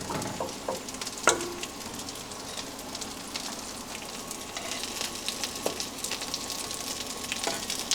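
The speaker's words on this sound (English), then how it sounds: "Give that a stir." Tomato sauce with freshly picked basil being stirred in a pot, a soft steady simmering sizzle with occasional spoon scrapes and clicks, fairly quiet throughout.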